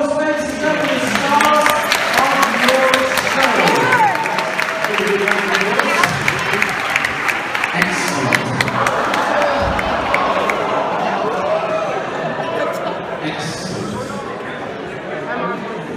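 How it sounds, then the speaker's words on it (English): Audience applause and crowd noise at a school event, with clapping and cheering blending into general chatter, loud and sustained throughout, with people talking over it. "Give a round of applause, ladies and gentlemen."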